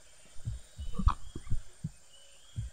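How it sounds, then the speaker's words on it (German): Game heartbeat effect in a military shooter campaign: several dull low thumps in an uneven rhythm across a couple of seconds, with one brighter thud in the middle, over a faint steady background hum. "Ich hab Herzklopfen."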